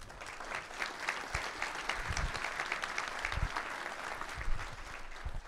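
An audience at a Swedish association's annual meeting applauds steadily, a dense, even wash of many hands clapping for several seconds without talk.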